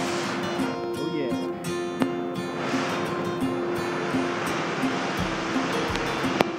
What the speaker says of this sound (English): Checking out the Waterfalls, giant waterfall.